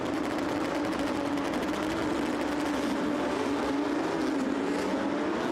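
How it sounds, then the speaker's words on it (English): Porsche race cars roll off for a formation lap at Yas Marina circuit, a dense, continuous engine drone with a steady pitched hum, loud and sustained without a break. "now we are going into the formation lap already for race 2 here at the Yas Marina circuit"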